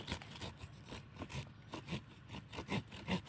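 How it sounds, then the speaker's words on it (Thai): Small fine-toothed pull saw cutting through a thick bonsai tree branch, with steady back-and-forth rasping strokes, roughly one every half second, close and fairly quiet, no talk over it. "เราก็มาทำการเลื่อยกันเลยนะครับผม"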